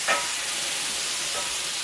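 Mushrooms and onion sizzle steadily in a pan, with a clear scrape of stirring near the start and another soft stir later, a constant bright frying hiss throughout.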